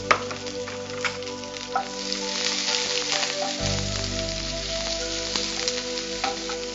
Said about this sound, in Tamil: கருவேப்பிலையே எப்பவுமே நம்ம சொல்ற மாதிரி கிள்ளி போடணும். படப்படன்னு பொரியுது.